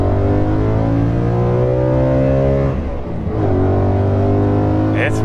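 A BMW E92 M3 with American Racing headers pulls hard, its engine note climbing steadily in pitch, briefly dropping at a gear change, then rising again, loud and close from inside the car.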